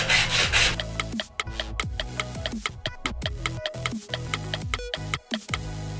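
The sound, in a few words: shaving wood for homemade marking gauge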